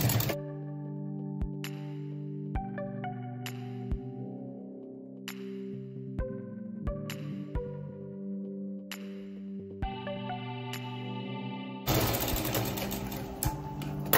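A sewing machine stitches a strip onto a one-year-old girl's khan-fabric parkar, running in bursts of rapid rhythmic whirring separated by short clicks and pauses, close by, ending in a louder rustle of cloth.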